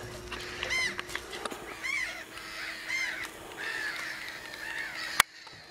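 Several harsh caws from a crow outdoors, in short bursts spread over a few seconds, over a low steady background hum and a sharp knock near the end.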